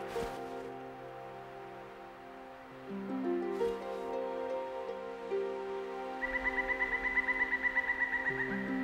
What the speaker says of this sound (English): See this treasure through the eyes of extraordinary vocalists, a pair of barred owls.